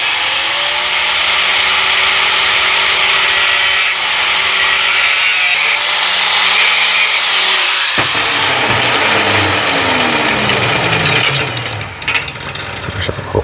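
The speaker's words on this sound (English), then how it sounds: "Now I can hit it with the flapper." Flap disc grinding a metal oil plate on a Corvair engine, a loud continuous abrasive whine that shifts pitch, then cuts off sharply as the grinder spins down and rattles.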